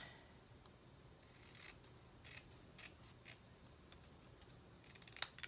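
Scissors cutting cardstock for a stamped greeting card in a straight line, faint crisp snipping strokes in a quiet room, a few separate cuts followed by a sharper click near the end.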